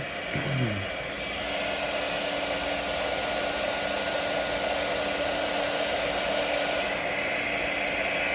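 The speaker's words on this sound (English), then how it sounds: "Go ahead and heat shrink these babies." Heat gun shrinking heat shrink tubing over soldered wires for a coil circuit, a steady loud blowing whoosh held throughout after a brief click at the start, no speech.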